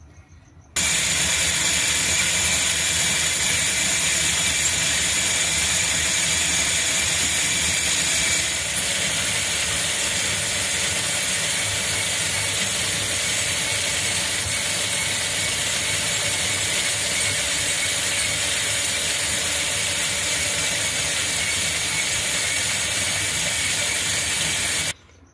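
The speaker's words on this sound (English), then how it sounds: "when I turn this handle, the two pulleys move back and forth" A hand-turned handle drives a Meccano model of the Brennan torpedo's steering mechanism, swinging two pulleys back and forth with a continuous close mechanical whirring and ratcheting that shifts slightly partway through.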